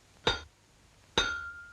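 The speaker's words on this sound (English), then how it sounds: "something as simple as hammering a nail into a wall" Hammering a nail into a wall: two sharp, bright metallic clinks about a second apart, quiet and close, the second ringing on briefly.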